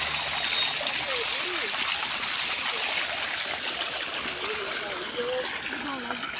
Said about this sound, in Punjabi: ਲਗਾ ਰਿਹਾ ਪਾਣੀ ਲਸਣ ਨੂੰ